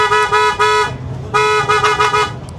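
Two loud, close car horn blasts, each held for nearly a second with a short gap between them, sounding outdoors at a moto bazaar on a typhoon-soaked day.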